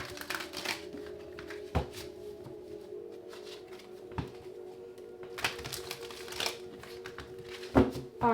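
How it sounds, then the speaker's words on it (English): Tarot cards are shuffled softly by hand, with faint riffling and scattered taps and flicks at close range in a quiet room. "Let's get 2 more shuffles."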